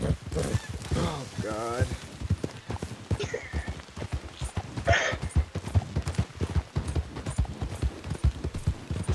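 In Red Dead Redemption 2, a horse's hooves pound in a rapid, steady clip-clop rhythm, up close and loud. Whinnies and snorts come in now and then, and a voice speaks over the galloping.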